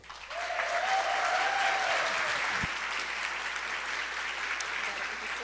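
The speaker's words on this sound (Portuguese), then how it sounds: "Senhoras e senhores, recebam com uma salva de palmas o professor Carlos Nobre." An audience at a talk on the Amazon and climate breaks into sustained applause, dense clapping that swells quickly and holds steady, loud and close, with a faint voice briefly heard over it.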